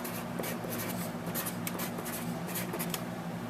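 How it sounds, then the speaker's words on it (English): A treble clef drawn by hand, pen or marker strokes scratching in short quick bursts across a few seconds, close and clear over a steady background hum, with no talking. "let's write it down here,"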